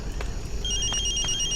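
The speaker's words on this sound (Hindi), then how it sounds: "फोन।" A telephone rings with a repeating electronic tone over a low background rumble, close and clear, and no one speaks.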